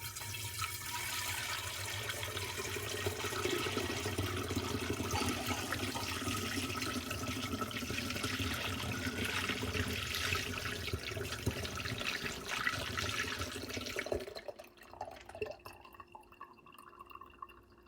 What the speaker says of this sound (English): because we're straining and then pouring the strained wort into a fermenter